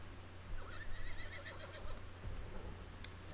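A horse in Red Dead Redemption 2 gives a short, moderately loud whinny over a low steady background hum, with a faint thump near the end.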